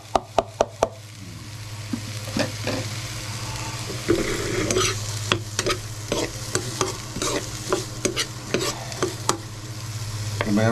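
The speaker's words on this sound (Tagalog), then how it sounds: "Ganda rin natin gigisahin yung atay." Ginger, onion, garlic and liver sauté together in a pan with a loud sizzle, while a utensil scrapes and knocks against the pan in irregular strokes, several sharp taps at the start. No one talks.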